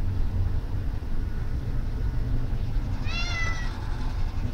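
A house cat gives one short, fairly faint meow partway through, against a steady low rumbling background hum.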